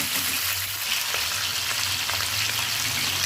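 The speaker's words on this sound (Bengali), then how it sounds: "চিকেনটা ভাজা হোক, তারপর আমি একটু উল্টে দেবো।" Chicken pieces frying in a pan with a steady, dense sizzle and crackle, close and continuous, with a low hum underneath and no talking.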